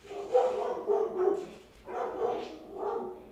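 A dog named Jupiter barks in a quick run of repeated, fairly loud barks, two bursts separated by a short pause, close by in a quiet room.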